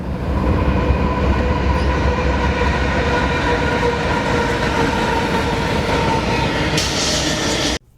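A Union Pacific freight train rolls past a Merced rail station at close range, a loud continuous rumble of wheels and rail clatter that fills the whole stretch before cutting off abruptly.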